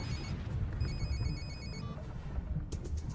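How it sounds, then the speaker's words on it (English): A telephone rings with repeated trilling bursts over a dense low rumble of background noise, fairly close and steady, with no one speaking. "Pick up the phone."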